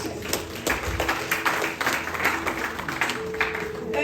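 A church congregation claps in a steady, regular rhythm, moderately loud and somewhat roomy, with a faint voice underneath.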